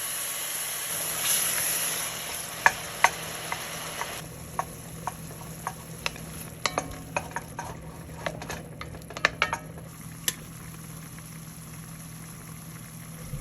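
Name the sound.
tomatoes added to sizzling chana dal in a pan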